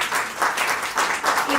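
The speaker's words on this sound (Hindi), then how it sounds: "कार्यक्रम समाप्ति की ओर है, तो एक बार तालियां तो बजनी ही चाहिए।" An audience applauds at the close of a literary event in Ranchi, a dense, steady burst of many hands clapping that rises and falls slightly, with no speech over it.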